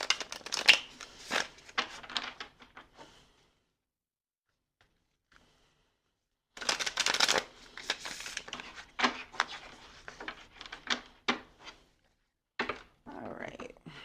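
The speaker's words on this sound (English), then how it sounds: "That was a terrible shuffle." Tarot cards shuffled by hand in several bursts of rapid riffling and slapping, close and fairly loud, with a quiet pause in the middle and brief soft speech near the end.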